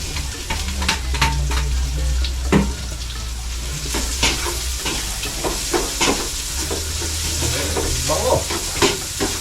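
Onions sizzle loudly in a hot pan while a utensil stirs and scrapes against the metal, with irregular clinks over a constant frying hiss.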